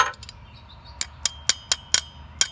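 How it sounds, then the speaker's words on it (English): Hammer whacks driving a pulley down onto an Exmark Metro mower spindle: six sharp metallic strikes, spaced unevenly about a quarter second apart after a brief scrape, close and clear with nothing else over them. "And give it a few whacks with that one there."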